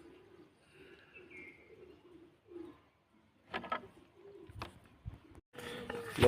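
Domestic pigeons cooing in a loft, soft low rolling coos repeated close by, followed by sharper flutters, thumps and a burst of wing-flapping near the end.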